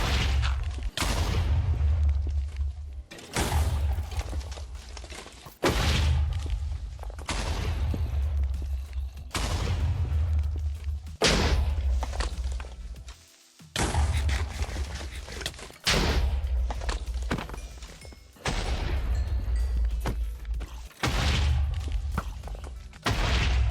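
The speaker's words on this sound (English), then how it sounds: "Let's run the montage of all the creeper explosions." Repeated creeper explosions in Minecraft: a rapid series of about nine loud, booming blasts, each a sharp burst with a heavy low rumble that decays over a couple of seconds before the next one hits.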